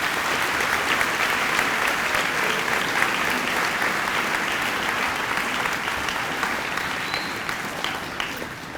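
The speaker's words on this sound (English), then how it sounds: "Let's give everybody a round of applause." Sustained audience applause fills a school assembly hall at a distinguished alumni hall of fame event, dense steady clapping from a large crowd that tapers slightly near the end, with no talk over it.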